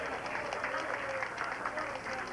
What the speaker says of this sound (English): And he gets a nice round of applause from his bowling opponent today, Bob Whitcomb.